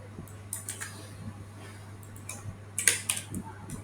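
Keys clatter on a computer keyboard in short irregular bursts, including a firmer press of Enter during copying and pasting, fairly close and moderately loud over a steady low electrical hum.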